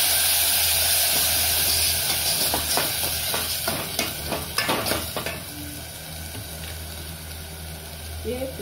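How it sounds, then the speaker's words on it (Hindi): Ground spices drop into hot oil for a tempering of zeera and kaali mirchi, and a loud, steady sizzle and hiss continues with stirring scrapes. It softens slightly toward the end. "बगार में ये पिसा हुआ मसाला डालेंगे।"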